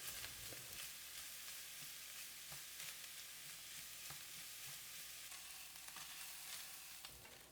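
Chopped onion frying in a pan until soft and translucent, a steady close sizzle with soft stirring scrapes and no voices.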